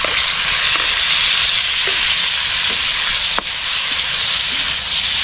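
Prawns sauté in a hot pan with garlic, onion and tomato, giving a loud, steady sizzle and hiss with occasional faint stirring clinks throughout.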